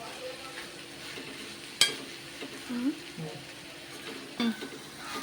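Salted cluster beans cook in oil over a low flame for a curry. A faint, steady sizzle sits close by, marked by one sharp clank of a utensil and a few soft stirring sounds.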